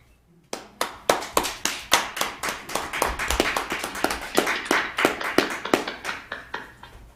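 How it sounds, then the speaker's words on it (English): Sparse applause at a small town meeting: after a brief silence, a handful of people clap in distinct, close individual hand claps, irregular at first and then thickening into a steadier patter that lasts several seconds. "I'd like to ask everybody to give a big round of applause to Jean Marie."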